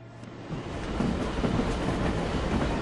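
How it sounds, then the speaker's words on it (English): A train in the video game Syberia 2 thunders past as a loud, dense rumble that swells after a moment and stays steady, with no voices. "That's very loud train"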